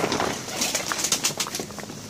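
Domestic pigeons kept by a backyard owner coo in a loose, overlapping series close by, with brief soft calls and some light rustling and chirps from other birds around them; no one speaks.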